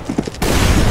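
A Molotov cocktail shatters in a video game: a few quick thumps, then an abrupt loud burst that settles into a steady crackling roar of flames.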